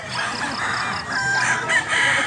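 Roosters crow over a background of clucking chickens, several birds calling at once in a busy farmyard in southern Cebu.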